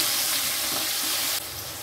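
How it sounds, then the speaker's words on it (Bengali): Spiced turmeric masala for Bengali shukto sizzling steadily in a pan with a splash of water, a continuous close hiss that drops a little in level near the end. "অল্প জল দিয়ে একটু কষিয়ে নেব।"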